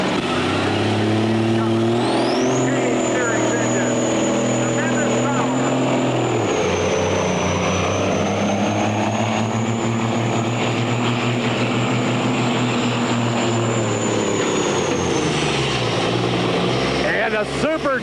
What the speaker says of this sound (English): Cummins-powered Super Trooper machine, walks it down the track.